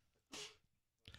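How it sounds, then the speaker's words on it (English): One sharp sneeze bursts out close and loud in a quiet indoor space, followed a moment later by a shorter second burst. "You guys are sneezing and coughing in here."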